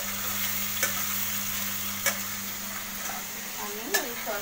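Chicken fries in a pan for chili chicken and is stirred, giving a steady soft sizzle with a few sharp scrapes of the spoon against the pan and a low steady hum underneath.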